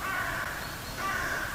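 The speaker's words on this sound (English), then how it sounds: "Whenever you see a flock of blackbirds, or crows as people would call them," A flock of crows caws in the video game Hello Neighbor 2, two clear drawn-out calls separated by a short pause, moderately loud over a faint background.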